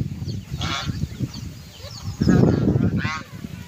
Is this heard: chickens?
yes